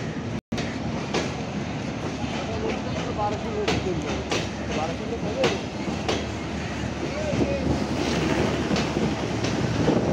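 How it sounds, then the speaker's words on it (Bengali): A passenger train from Khulna bound for Benapole rolls past at Jessore railway junction, its heavy rumble and rhythmic clatter steady and loud throughout, with faint voices in the background. "যশোর বেনাপোলের দিকে যাচ্ছে এই ট্রেনটা, খুলনা থেকে আসলো।"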